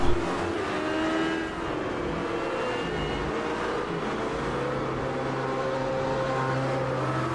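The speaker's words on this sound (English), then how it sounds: "It's a very distinct hum that the LMP gives off when you have the pit lane" An LMP prototype race car hums slowly and steadily through the pit lane at Spa, a continuous low engine drone that holds at an even level throughout.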